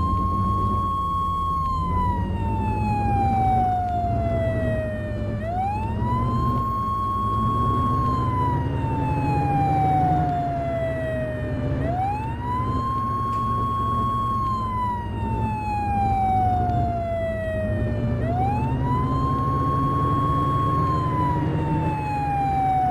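Fire engine siren in the video game Flashing Lights, a loud wailing tone that rises and slowly falls in long repeated sweeps about every six seconds over a low engine rumble, with no talk.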